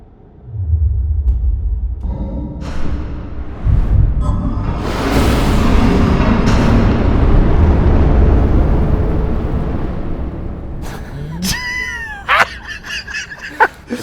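Explosive charges fire inside a homemade baseball bat swinging device, a loud sustained rocket-like roar that builds over several seconds and fades, followed by squealing and clattering, with no talking.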